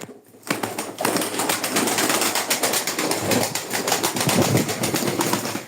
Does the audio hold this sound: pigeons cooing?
yes